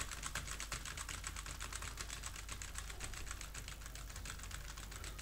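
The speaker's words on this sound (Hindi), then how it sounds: "कुछ ऐसा टेक्स्ट टाइप कर देता हूँ यहाँ पर।" Text being typed on a computer keyboard in CorelDRAW 2012, a steady, rapid run of even key clicks heard close and fairly quietly, with no talking.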